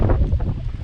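Strong wind gusting through a garden of succulents and indigenous plants, a loud, steady roar buffeting the microphone with rushing, uneven surges and no voices.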